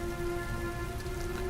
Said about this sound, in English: The titular heavy rain.